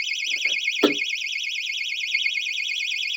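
A cheap dollar-store door security alarm blares a loud, continuous warbling electronic siren, rising and falling steadily throughout, with a brief clunk of handling near the start.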